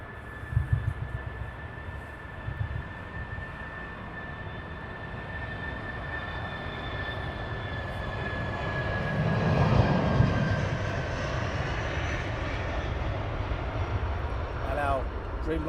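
A passenger jet roars at London Heathrow Airport, a broad, sustained engine noise with a thin high whine that builds to a louder peak around the middle before easing slightly.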